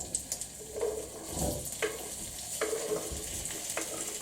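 Quiet, steady sizzling of chopped potatoes frying in hot oil, with occasional stirring scrapes and clinks close by.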